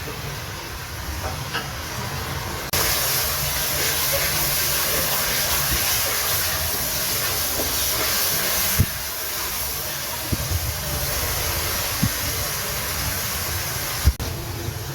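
Chopped garlic and onion frying in hot oil in a kadai, giving a steady, loud, broadband hiss that swells a little louder a few seconds in and carries on evenly, with faint clicks and no voices.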